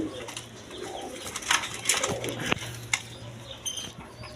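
A pair of high-quality racer pigeons coo in soft, low repeated calls nearby, with light clinks and scattered clatter around them.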